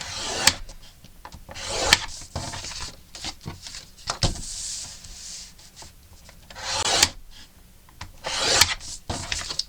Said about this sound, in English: we are going to score at 1/2 an inch and 1 inch